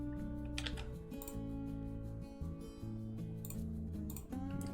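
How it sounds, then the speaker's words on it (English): Steady, rapid typing on a computer keyboard, a dense run of close, crisp key clicks and clacks that carries on without pause and with no voices. "I'm gonna show you what I'm typing here."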